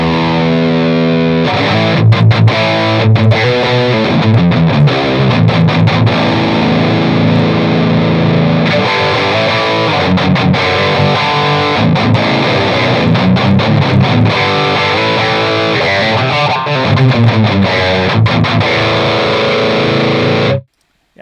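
Heavily distorted electric guitar through an Audio Assault The Crown amp simulator plays chugging metal riffs and sustained chords, loud and saturated, with brief stops between phrases.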